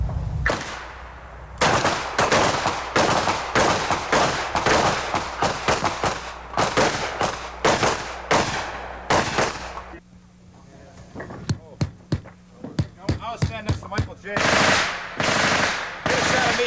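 Rapid gunfire rings out at a 1986 combat shooting tournament: dense, loud volleys of shots crack in quick succession, pause briefly, then resume as scattered single shots and further bursts, with faint voices in the background.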